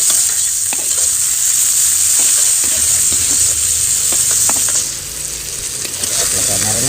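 Tomatoes sautéed in a pan for ginataan, a loud steady sizzle and hiss with occasional spoon scrapes and stirring clatter, continuing throughout.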